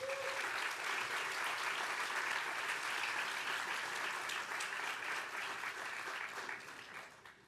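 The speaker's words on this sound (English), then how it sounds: "give him a big round of applause" A full round of audience applause at a transfer achievement celebration, dense steady clapping from a crowd that holds evenly, then fades toward the end.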